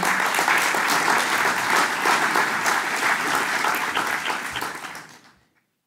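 Conference audience applauding at a green-tech meetup, a dense steady wash of many hands clapping that thins and fades out near the end.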